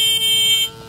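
Battery-powered buzzer in a homemade money alarm buzzing with a steady, shrill electronic tone for under a second before cutting off, close and loud.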